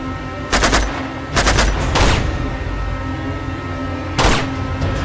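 Short, loud bursts of automatic gunfire in Uncharted 2 erupt in four separate volleys against a humming background, each clattering salvo close and sharp with brief gaps between.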